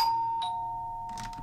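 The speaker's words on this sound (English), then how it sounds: "The doorbell rings." A chiming two-tone doorbell rings in the Roblox game Jim's Computer, a computer horse simulation, with a clear ding followed by a lower sustained dong, loud and alone, with a brief burst of noise near the end.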